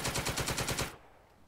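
Rapid automatic gunfire from the Second Front war game, a loud rhythmic burst of about eight shots that cuts off abruptly, leaving a quiet tail.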